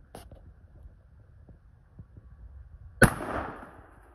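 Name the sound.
gunshot fired at cheap eBay body armor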